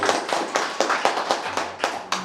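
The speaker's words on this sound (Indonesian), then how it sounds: "Beri tepuk tangan buat Tuhan Yesus." A church congregation claps in a steady rhythmic beat, roughly two claps per second, close and moderately loud with a faint tonal hum underneath.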